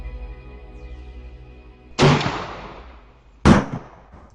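Two sharp gunshots, each a sudden loud blast with a short decaying tail, about a second and a half apart, after a low rumbling lead-in.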